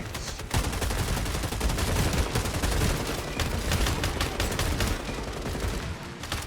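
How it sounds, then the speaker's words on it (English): Shotgun fire in the shooter game FragPunk, with dense, loud blasts crowding together in a rapid barrage of gunfire that keeps going for several seconds. "I somehow managed to not kill him after 3 shotgun shots."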